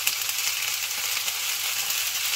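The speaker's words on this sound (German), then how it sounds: "kleinen Rouletchen anbraten. Am besten immer auf der Schnittstelle" Small beef roulades searing in a hot pan give off a steady, loud hiss and crackle of sizzling fat throughout, with no speech heard.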